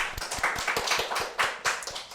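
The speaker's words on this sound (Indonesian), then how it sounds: "Tepuk tangan dulu dong." A studio audience claps to welcome an obstetrics and gynecology specialist onto a talk show, a small group of distinct, fairly close hand claps in an uneven burst.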